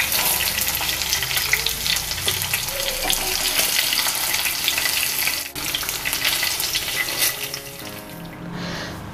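Chicken frying in hot oil in a pan, a dense, loud, steady crackle and sizzle that continues without a break and eases slightly toward the end.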